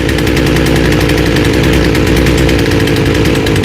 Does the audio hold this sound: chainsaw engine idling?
yes